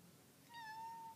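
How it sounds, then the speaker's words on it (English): A house cat meowing once up close, a single clear, slightly rising meow over quiet room tone, while the cat watches artwork being made. "My cat's coming over to say hello."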